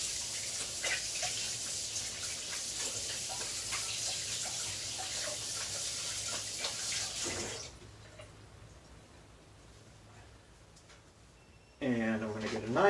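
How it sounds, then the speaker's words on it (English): Hands rinsed under a running kitchen tap while making brown soda bread, a steady hissing stream of water for several seconds that then stops, leaving a quiet room. "I'm gonna rinse my hands."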